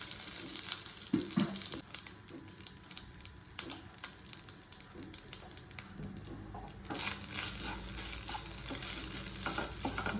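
Coconut rice with salt is stirred in a pan, soft scraping and rustling strokes over a quiet sizzle, with faint birdsong in the background.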